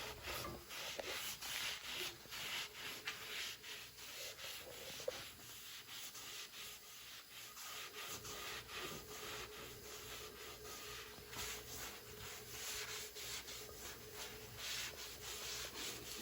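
Steady dry rubbing with a paper towel, wiping finish onto a sycamore salad bowl, continuous and close, with faint scuffing strokes and no voices.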